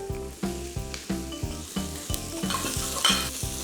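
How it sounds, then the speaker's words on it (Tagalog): Carrots sauté in a pan for tofu with broccoli, a loud steady sizzle broken by a regular series of scraping, clanking stirs against the pan. "Una kong igigisa sa mga gulay yung carrot."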